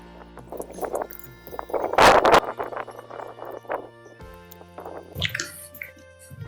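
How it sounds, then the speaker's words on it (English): Water dripping and splashing from an old hand water pump in a quiet industrial district of Kiev: irregular wet drips and small squishy splashes, with one louder gush partway through, close by. "Old hand water pumps are still popular here."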